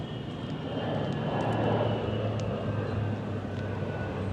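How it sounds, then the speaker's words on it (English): A C-130 military aircraft flies overhead at an aviation museum in Albuquerque, New Mexico, producing a steady, broad engine rumble that swells slightly and then holds for several seconds without speech. "There goes the C-130."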